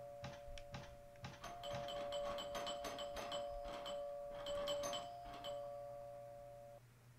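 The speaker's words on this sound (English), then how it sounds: "And the doorbell just rang." A doorbell rings in the horror video game Indie Zombie, a repeated chiming tone sounding several times over a steady low hum, moderately loud and without talk.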